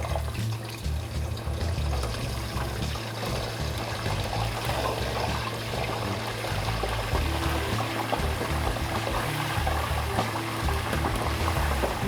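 Chips fry in a pot of hot oil with a dense, continuous hiss and crackle of bubbling that holds steady and close throughout, with no voices.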